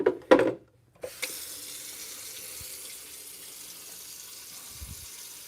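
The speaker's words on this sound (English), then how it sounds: "we're actually going to go fill the clean water tank" Tap water runs into the clean water tank of a robot vacuum and mop base station, a steady splashing gush after a few brief knocks and handling sounds, continuing evenly with no talk.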